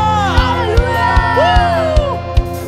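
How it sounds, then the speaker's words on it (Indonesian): A worship congregation at a church service cheers and shouts hallelujah over a live band, the crowd's voices rising together above a steady, punchy kick-drum beat. "Yang percaya Tuhan kita dahsyat, sorakan haleluya."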